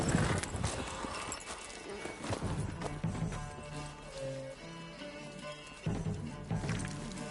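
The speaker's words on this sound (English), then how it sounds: "Okay, I guess now we have to gallop." A horse gallops in The Witcher 3: Wild Hunt on PS5, its hooves pounding in a steady rapid rhythm, with tonal game music playing underneath.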